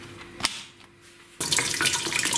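Hot water poured from a glass jar into a cooking pot while making mulberry compote, a brief clatter first, then a steady close splashing pour that runs on loudly.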